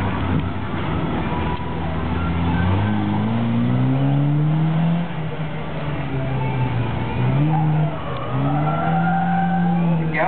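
Toyota Tacoma minitruck sliding its back end out on a course at a summer car show, engine revving and rising in pitch with faint tire noise, loud and steady throughout.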